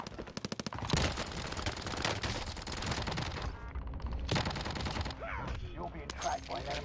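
Rapid automatic bursts from a UGR class rifle on Rebirth Island in Warzone: a quick crackling volley opens, followed by several longer sustained strings of fire separated by brief pauses, with a player talking between and under the shots.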